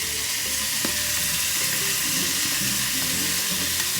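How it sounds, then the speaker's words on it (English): Beef steak stir fry, New York steak with green onion, sizzles steadily in a hot pan, a dense continuous frying hiss with occasional stirring clinks, close and fairly loud with no talk. "Cook it for 5 to 8 minutes depending on how well you like your beef to be done."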